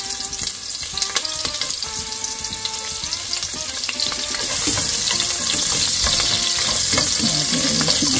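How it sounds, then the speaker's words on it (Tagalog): Onion and garlic go into hot oil for a Filipino mung bean stew. At first there is stirring and utensil clatter, then the sizzle jumps to a loud, steady hiss of sautéing that stays close and constant, with no talking. "mainit na ating mantika, sisimula na tayong maggisa"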